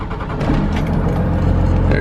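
A 12-valve Cummins diesel pickup engine cranks and catches, rising within a moment into a loud, heavy low-pitched diesel clatter and rumble that settles into a steady idle close by.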